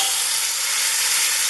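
Top round steak sizzling hard in a hot pan, a loud, dense, steady hiss and crackle close up, with no talking over it.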